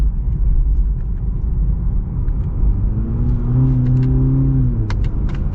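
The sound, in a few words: sports car engine revving through gears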